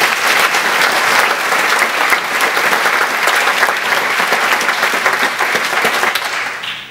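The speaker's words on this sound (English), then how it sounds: "So please give him a round of applause." Audience applause for a producer at a live disclosure presentation: dense, steady clapping from a sizable crowd, loud and sustained throughout before tapering slightly at the end.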